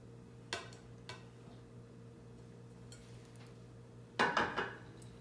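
Banana bread batter is mixed in a bowl, giving a few quiet, scattered clinks of a utensil against the bowl and then a short cluster of rapid knocks, all close and soft with no talk.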